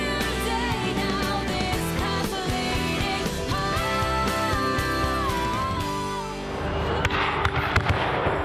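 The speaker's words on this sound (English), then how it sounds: "the annual fireworks display" Dense, continuous crackling and popping bursts of an annual village fireworks display in New Ash Green fill the air, loud and sustained, with a brief lull before sharper bangs near the end.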